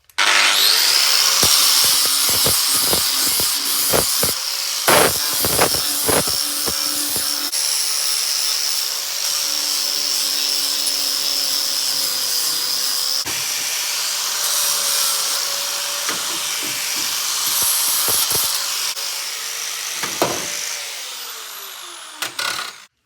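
Wooden pieces are sanded by hand, giving a steady rubbing and scraping at close range, broken by a few sharp knocks and taps, with no talking.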